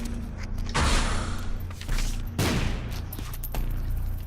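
Several loud, booming bursts from an item in the video game Binding of Isaac: Afterbirth+, a thick first blast followed by further heavy thuds and a rumbling second blast, close and filling the clip.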